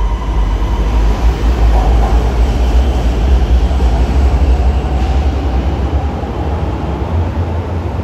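A loud, steady low rumble of an MRT Kajang Line metro train departing a station in Malaysia, with constant roar and faint higher whine, no voices.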